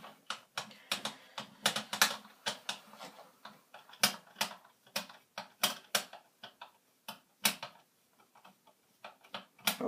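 A screwdriver turns the two motor screws out of an M4 airsoft gun, giving a close, uneven run of sharp ratcheting clicks and ticks with short pauses between bursts.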